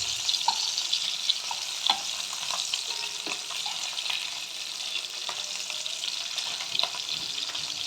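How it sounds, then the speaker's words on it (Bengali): Small tengra fish frying in a pan in a hostel kitchen, a steady low sizzle with occasional spits and pops and faint clinks, moderately close and without talk. "মাছগুলো আমি ভেজে নিচ্ছি"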